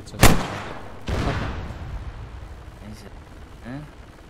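Two heavy rocket blasts fired at a tank in the ARMA 3 military game, the first a sharp, loud crack and the second a longer roaring boom, fading into a low rumble with faint voices afterward.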